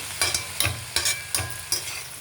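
Curry fries in a pan while a spoon stirs it in regular strokes, about five scraping sweeps over a continuous close sizzle, with no talking.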